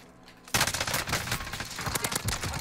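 Rapid automatic gunfire in the Warzone video game, loud sustained bursts breaking in suddenly after a quiet moment and rattling continuously to the end.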